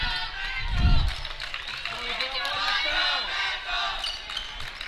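A crowd yelling at a Burlington at Cherokee high school boys basketball game, a loud mass of voices filling the gym, with a close basketball bounce near the start.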